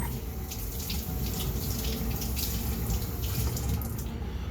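Raw oxtail meat is washed under a running kitchen tap. Water gushes and splashes steadily and close, without a break, for the whole stretch.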